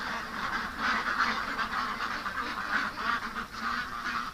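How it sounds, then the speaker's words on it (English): A flock of ducks quacks and honks excitedly, a loud, continuous, overlapping clamour of many birds close by with no gaps. "But the ducks were losing it."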